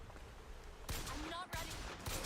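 A volley gun in Pokémon Legends Z-A fires in rapid bursts of loud crackling shots, with a short break between volleys, while a voice talks over the action.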